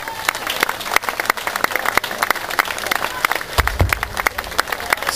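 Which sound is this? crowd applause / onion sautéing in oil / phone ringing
crowd applause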